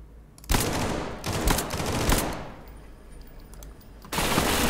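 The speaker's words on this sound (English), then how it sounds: "Are they shooting you up?" MTF soldiers open fire in SCP Pandemic: two loud bursts of automatic gunfire, a pause with faint scattered shots, then another volley starting near the end, sharp and close.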